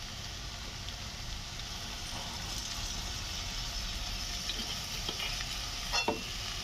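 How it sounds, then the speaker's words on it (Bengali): Food stir-frying in a pan with soy sauce, a steady soft sizzle with occasional scraping stir noises, fairly quiet and close, no voices. "দিয়ে এটা পুরোটা ফ্রাই করে নেব"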